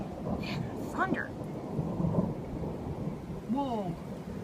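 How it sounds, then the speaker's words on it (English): Low, rumbling thunder rolls through a thunderstorm over steady rain noise, with a few faint bird calls audible in the background. "Man, thunder!"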